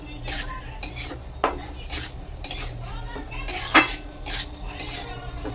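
A spoon stirs pasta in a metal pan on a kitchen stove, a run of scraping strokes with sharp clinks of utensil against pan, two louder knocks standing out, over faint background hum.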